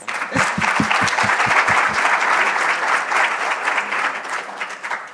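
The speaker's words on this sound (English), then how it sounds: "Can we please give him a round of applause?" Audience at a manufacturing and materials research symposium breaks into sustained applause, opening with a few loud, close individual claps before settling into a full, steady roar of clapping from the room.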